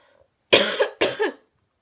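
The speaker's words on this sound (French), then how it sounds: "Ça me chatouille dans la gorge, je vais tousser comme une grosse dégueulasse" Two hoarse, wet coughs from a sick person with a tickling throat, in quick succession, close and loud, then silence.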